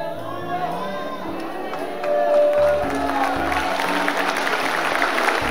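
A church congregation breaks into applause, starting as scattered murmuring and chatter and swelling after a couple of seconds into steady, crowded clapping mixed with a few voices and a held musical tone underneath.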